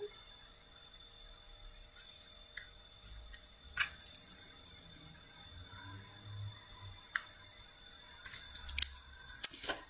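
Scissors snip through paper for a 3D tree craft, giving sparse, close clicks and cuts over a steady faint hum, growing busier toward the end.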